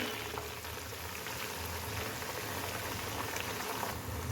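Ground fenugreek, curry leaves and henna leaves sizzling in hot oil for a homemade hair oil, a steady, dense crackling hiss that stays loud and even throughout, with no talking.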